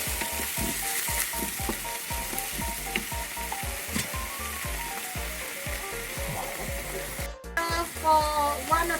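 Ginger stir fry sizzles loudly in a hot wok with dark soy sauce, a continuous close frying hiss broken by rhythmic scraping and clanking of a metal spatula against the pan, with a brief dropout near the end.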